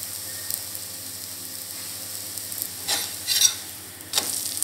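A green gram (pasi payaru) dosa cooks on a pan with a faint, soft sizzle, broken by a few short scraping or stirring bursts.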